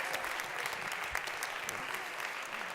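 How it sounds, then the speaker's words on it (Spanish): Audience applause for a woman at a results presentation, a steady, fairly faint and distant wash of clapping that runs throughout. "¿le pueden dar un aplauso a María?"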